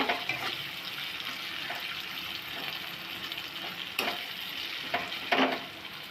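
Onions with salt frying in a pan for a chitol fish kalia, a soft steady sizzle with occasional scraping stirs and clinks, no voices.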